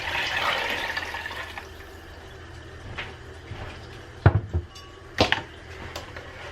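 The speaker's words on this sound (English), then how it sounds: "add some more water" Water runs and trickles into a cooking pot of chicken bouillon broth, starting as a steady pour and then ending in a few short splashes and drips, close and moderately quiet.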